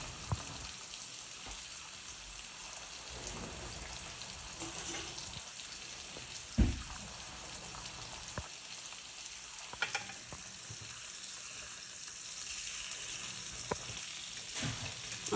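Steak and vegetables frying in a pan at home, a steady crackling sizzle lasting throughout with a few sharper pops and utensil knocks standing out, close and moderately loud with no talk.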